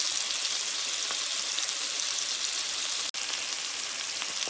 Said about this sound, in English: Just let them sear and brown